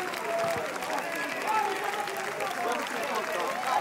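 Audience applause for Eva Husson and her team at Cannes 2018, dense clapping from a large crowd that keeps going at a steady level, with voices mixed in.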